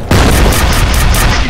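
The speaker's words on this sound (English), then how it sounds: "Fire in the hole. Grenade out." A grenade blast in the shooter game F.E.A.R. opens as a sharp hit after a brief quiet, then gives way to a loud, dense, rumbling roar of combat noise that fills the rest of the moment without letting up.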